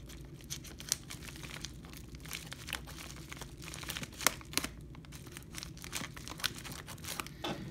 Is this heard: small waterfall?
no